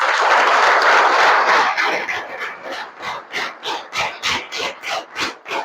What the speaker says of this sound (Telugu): మీ క్లాప్స్ ఇస్తే చెప్తాను నేను.